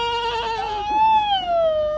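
A child imitates a goat's bleat with a wavering, high, tonal voice that holds for about two seconds, close and clear.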